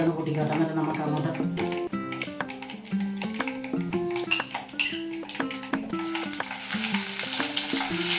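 Garlic and green chillies sizzle as they fry in a pan, a steady hiss under a continuous talking voice and background music, with occasional clinks of a utensil against the pan.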